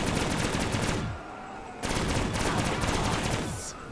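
Pistol gunfire in Black Ops 3 custom zombies, loud dense bursts of rapid shots in two stretches separated by a brief pause, close and harsh.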